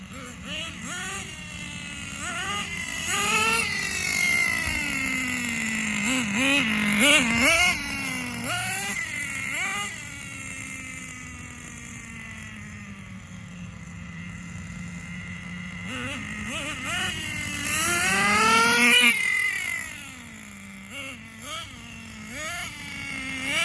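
A Thunder Tiger Tomahawk XL RC car's small nitro engine running close by, a buzzing whine that rises and falls repeatedly as the throttle is worked, with no speech over it.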